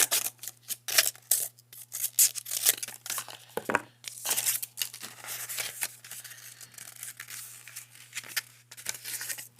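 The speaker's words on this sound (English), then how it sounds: "And I'm going to cut out a triangle for his big" Scissors cut through paper to shape a triangle ear for a craft figure, with a quick run of close, crisp snips and rustling paper handling, without any speech.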